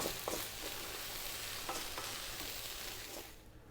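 Fried rice with chopped cilantro and smoked paprika tossed in a hot pan, a close, bright sizzle with a few quick scraping strokes of the spoon before it fades away.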